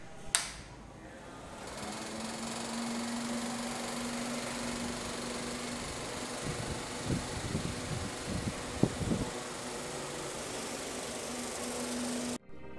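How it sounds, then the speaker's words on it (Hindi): A 12V DC air cooler running off a lead acid battery gives a steady fan whir with a low hum, with a few brief knocks and rattles partway through. "एयर कूलर थोड़ी देर चलेगा"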